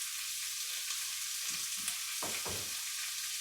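Wagyu beef patties mixed with truffle oil frying in a pan, a constant close, bright hiss with a few muffled thumps and shifting sounds midway, quiet overall and without speech.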